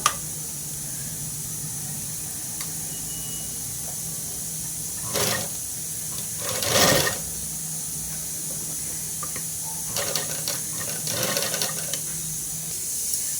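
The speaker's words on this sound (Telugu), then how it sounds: "ఇలా పెట్టేసి ఇక్కడ నుంచి మనము కుట్టుకుంటూ వచ్చేద్దాము" Sewing machine running steadily while stitching cloth for a party dress, a continuous whirring hum with brief louder bursts partway through; no talking.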